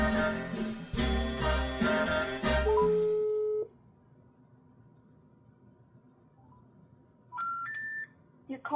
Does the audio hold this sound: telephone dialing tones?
yes